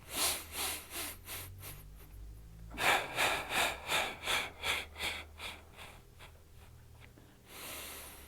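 Rhythmic breathing during a Pilates core exercise, a series of quick sharp puffed exhales followed by a longer run of even panting breaths, close and moderately loud.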